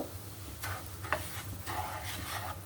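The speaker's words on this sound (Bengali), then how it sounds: "এক বাটি সুজি সুজিটা আমি একটু ভেজে নিব" Semolina being dry-fried in a pan, with gentle scraping strokes of a spoon stirring the grains in a quiet, repeated rhythm over a soft low hum, close and faint.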